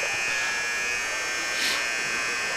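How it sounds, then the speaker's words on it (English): A gym scoreboard buzzer stuck on at a high school girls' basketball game drones loudly and continuously, an unbroken harsh tone filling the whole stretch. "And Joe managed to turn the buzzer on, which apparently just stays on indefinitely now."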